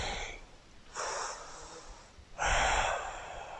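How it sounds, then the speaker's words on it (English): Slow, steady yoga breathing, heard close as three long airy breaths separated by brief pauses, the last one the loudest. "Slow, steady breaths."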